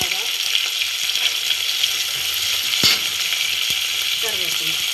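Onions sauté in a pan for a katla fish curry, giving a steady, close hiss and sizzle throughout with a couple of brief clinks of a spoon against the pan.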